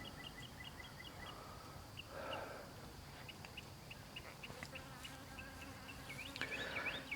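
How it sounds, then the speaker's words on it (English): Honeybees buzzing around an outdoor hive box, a faint continuous hum with occasional closer passes, under distant chirping birds. "Scout bees would be on the outside,"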